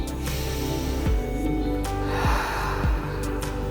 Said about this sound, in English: So, sit back and take a few deep breaths.